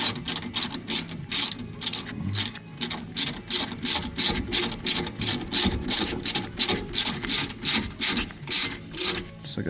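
A ratchet tightens the rear brake caliper bolts on a Hyundai Santa Fe during a pad and rotor replacement; rapid, rhythmic clicking repeats steadily and loudly, close up, with no talk.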